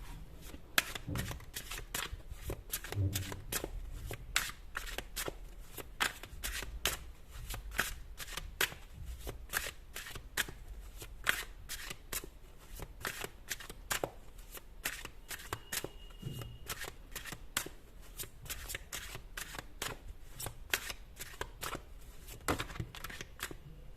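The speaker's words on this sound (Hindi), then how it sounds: "मैं ये कार्ड्स ले रही हूँ" A deck of playing cards is shuffled again and again in a steady run of crisp riffles and ruffles, close and clear for the whole stretch. There is no talk, only faint low background noise beneath the cards.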